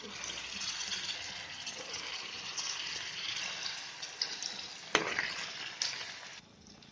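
Ginger garlic paste, tomatoes and potato fry in a pan with a steady, close sizzle and occasional stirring clatter, with no talking.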